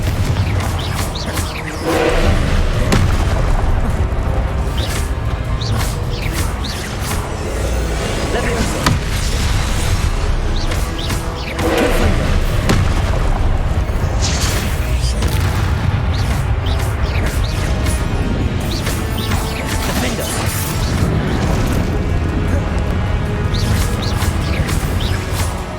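Confringo, an explosive spell, goes off amid dense Hogwarts Legacy battle noise: repeated booms and crashes, steady loud combat sound throughout, with a voice talking over it.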